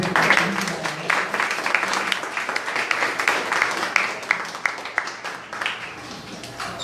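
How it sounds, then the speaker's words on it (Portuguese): A church congregation claps at a prayer house service, a moderate, slightly uneven patter of hands with distinct individual claps standing out, steady throughout. "Dê um salve de palmas para Jesus"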